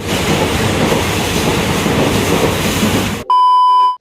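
A train in the Dooars rumbles loudly past up close, wheels clattering rhythmically, then cuts off abruptly to a steady electronic beep.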